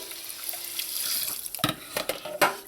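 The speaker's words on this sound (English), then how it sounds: "you want to add some tap water to this" Tap water running from a faucet into a bowl of saltfish being soaked, a steady hiss with a few louder splashy gushes near the end, close by with no talking.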